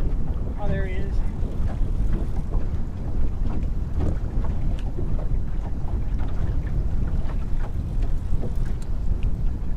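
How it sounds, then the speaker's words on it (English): Steady wind roars across the mic on a fast-current river while out catfishing, a continuous low rumbling buffet from start to finish with a brief faint chirp early on. "Wind is picking up too, fellas."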